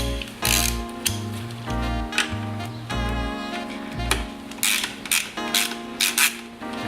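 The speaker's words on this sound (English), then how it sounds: "It makes me a little bit nervous using the driver." A power driver turns a coilover bolt on a Mazda MX-5, giving short, repeated ratcheting whirs in quick bursts separated by brief gaps, close by and with nobody speaking.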